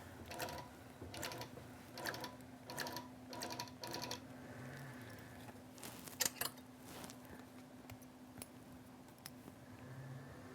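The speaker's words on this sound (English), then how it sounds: "I might just do that really quickly with a big single stitch basting stitch" A sewing machine runs a long single basting stitch on a fabric postcard project, with quiet rhythmic bursts of mechanical clatter followed by a few sharper clicks.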